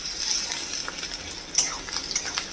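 Sliced onion fries with four cloves in a pan, a quiet, close sizzle with light stirring scrapes and small clicks of a spatula, fairly faint throughout.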